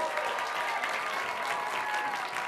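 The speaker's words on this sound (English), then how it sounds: "Let's have a round of applause for both teams." Steady audience applause at a high school quiz show, loud and continuous throughout with no pauses, honoring two competing teams after a round ends.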